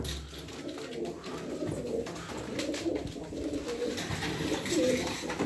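Flock pigeons kept as game birds coo in low, throaty repeated calls, several birds overlapping close by under a steady ambient background.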